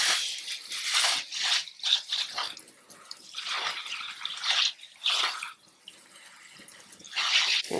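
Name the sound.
washing garden cucumbers and herbs in water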